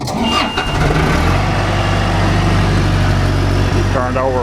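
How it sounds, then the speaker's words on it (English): A John Deere 310G backhoe diesel engine, throttle a third open and started without glow plugs on a hot day, cranks briefly, then catches into a steady, loud, close rumbling idle. "Turned over 4 times and cranked up."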